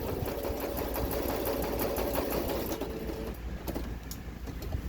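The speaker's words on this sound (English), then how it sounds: "I am going to sew down and around it, so I don't have to glue all those spots" A sewing machine stitching around a book page for a junk journal, running in a steady fast whir of needle strokes that shifts pitch as it slows, loud and close with no talk.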